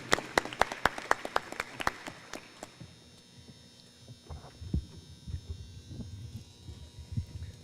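An audience claps in applause at an outdoor mural unveiling at TSU, a dense burst of sharp claps that fades out after about three seconds, leaving quiet ambience with low rumbles and scattered sounds.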